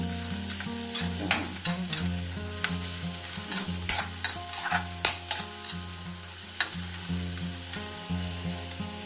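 Ginger, onion and garlic sizzling in a frying pan, a steady crackle with repeated scraping stirs of a utensil against the pan, close and lively with no talking.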